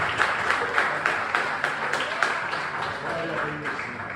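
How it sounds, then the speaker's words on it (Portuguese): A church congregation applauds during a worship service, steady clapping from many hands with sharp periodic peaks, fairly close and continuous for a few seconds. "Aplauda."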